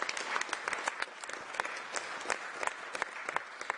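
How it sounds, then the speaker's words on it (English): A round of applause fills a council cabinet meeting room, many hands clapping steadily and densely at moderate volume with no talk over it. "So I just want to give them another round of applause"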